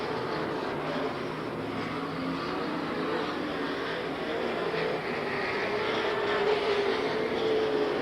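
Super sedan race cars pass on a speedway oval with a continuous loud engine roar that blends several cars together, heard from a distance with a rising pitch near the end.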